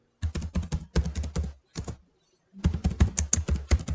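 Rapid bursts of keystrokes on a computer keyboard while an address is typed into a Microsoft Word business letter, close and clear, in quick clusters with one short pause midway and no talking.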